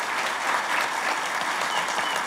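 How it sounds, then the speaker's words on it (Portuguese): A crowd at a DevOps talk breaks into dense, sustained applause, a steady wash of many hands clapping with no voices over it. "Galera, salva de palmas."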